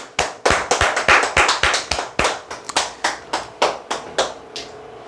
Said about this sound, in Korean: 자, 박수 한번 치시죠.